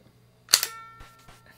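A single sharp revolver gunshot from the Super Russian Roulette video game, loud and close, with a crisp attack that decays over a fraction of a second, followed by faint clicks.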